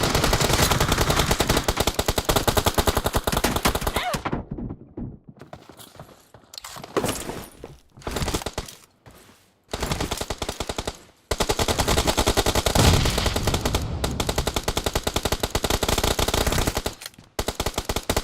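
Loud, dense automatic gunfire in a multiplayer video game, with sustained bursts interrupted by brief quiet gaps and scattered single shots before the rapid firing resumes.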